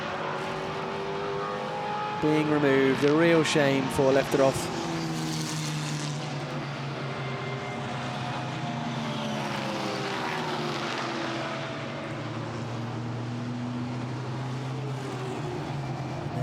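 GT4 race cars at Misano taking a right-hander, engines droning steadily with rising and falling pitch as they pass, a brief burst of sharper engine noise early on, and a commentator talking over it.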